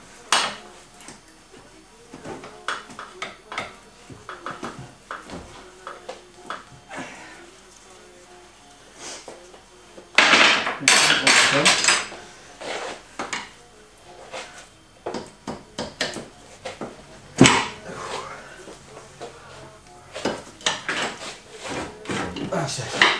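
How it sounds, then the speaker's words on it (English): Metallic clanks, knocks and scraping as the bottom wishbone of a TVR Griffith is worked out of its chassis lugs, irregular and close, with a louder clattering burst midway and some talk. "So, need to pull it out of the lugs on the chassis."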